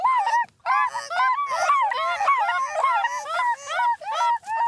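Several people vocally imitate snow goose calls in a traditional conservation area, giving a close, rapid chorus of high honking yelps that overlap in quick succession.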